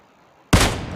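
A single sharp gunshot in a shooting video game, loud and close, bursting out suddenly after near silence and leaving a short ringing tail.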